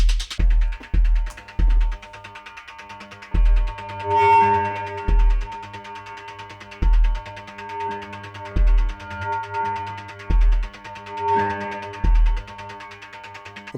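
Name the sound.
audio feedback loop screeching in Ableton Live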